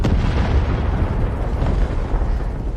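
Explosions in AI-generated cinematic sound design, a continuous heavy low rumble with dense booming bursts layered over environmental noise, loud and sustained with no speech.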